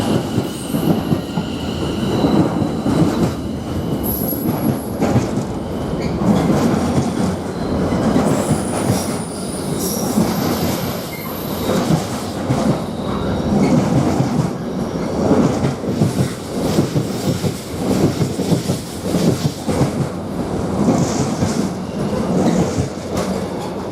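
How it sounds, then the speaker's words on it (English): A Greater Anglia passenger train pulls into Witham station with a loud, continuous rumble of wheels on rails, high-pitched squeals and clicking joints throughout, recorded close from the platform with no talking. "Now we've got a train coming in, the Greater Anglia train,"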